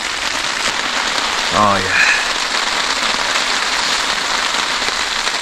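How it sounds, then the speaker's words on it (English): Heavy rain pours down steadily at a snowy winter camp, a dense, loud patter that fills the whole clip, while someone briefly says something partway through. "Crazy rain."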